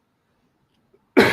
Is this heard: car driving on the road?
no